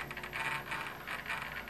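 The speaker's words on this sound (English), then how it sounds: "And of course, the retracts go up" Retractable landing gear on a Skymaster Hawk 100 RC model jet folds up under a sequencer, giving a steady, quiet mechanical whirring hum with no voices.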